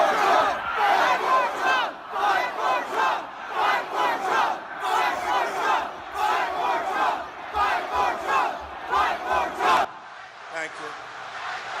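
A large crowd outside the Capitol shouting a rhythmic chant in unison, loud repeated surging bursts for about ten seconds before the chanting drops away.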